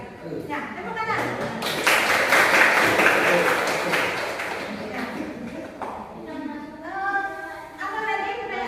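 Students clap in a classroom, a burst of applause that swells and fades, with voices talking before and after it.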